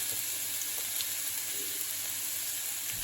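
Sliced onions fry in a little oil in a pan, a steady, even sizzle that holds without pause throughout, close and moderate in level.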